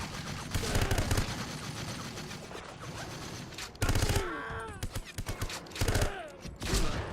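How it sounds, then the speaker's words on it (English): Repeated bursts of gunfire in the game 007 Everything or Nothing, loud blasts in irregular clusters over a busy background of game noise and music. "Oh, not the shotgun again."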